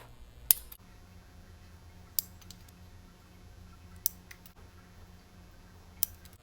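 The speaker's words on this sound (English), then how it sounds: "I'm going to go ahead and take my nail cutter and I'm just going to cut them to the length I want, which is short" A nail cutter clips acrylic nails down short. Four crisp, isolated snips sound a couple of seconds apart over a quiet, faintly humming room.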